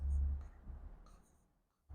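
Chalk or marker strokes on a board during a circular motion physics lesson, a few scratchy strokes near the start that fade over two seconds, then a brief new stroke at the end.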